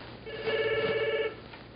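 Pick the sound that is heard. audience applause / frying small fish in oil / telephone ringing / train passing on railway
telephone ringing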